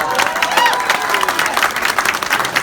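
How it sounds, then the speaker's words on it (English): Graduation crowd at a Fort Benning boot camp ceremony applauding victorious tankers, a dense steady wash of clapping and cheering from a large audience, with a brief whistle and some voices mixed in. "Let's give a round of applause for our victorious tankers."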